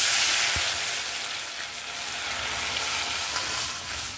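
Mustard water with turmeric is poured into a hot wok and sizzles, loud and close from the first instant, then settles into a steady bubbling hiss. Nobody talks.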